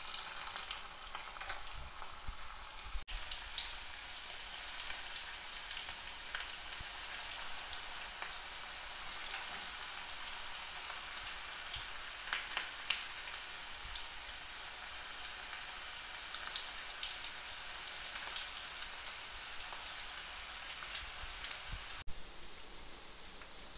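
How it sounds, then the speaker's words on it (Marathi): Onion pakoras deep-fry in hot oil, giving a soft, steady, rain-like bubbling hiss with occasional faint pops and clicks, heard fairly quietly and without any voices. "आता आपण असे गोळे घ्यायचे आणि आपण याचे भजे टाकून घेऊ"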